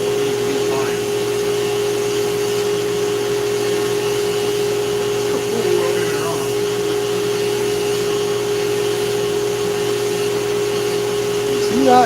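Dremel rotary tool carving with fine burrs, a steady high whine running continuously and loud close up, with faint voices murmuring beneath it.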